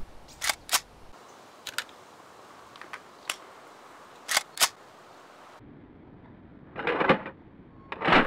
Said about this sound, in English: Here is the reload animation for the AK101.